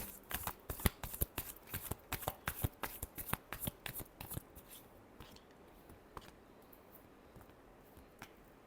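Tarot cards being shuffled in a quick run of crisp riffling flicks for about five seconds, then a few scattered soft card taps and slides in a quiet room.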